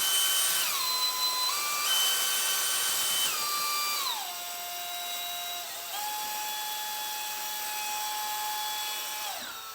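A power drill fitted with a mixing bit churns epoxy for a countertop with a high, steady whine. The pitch steps up and down as the speed changes, and the sound runs continuously and close by.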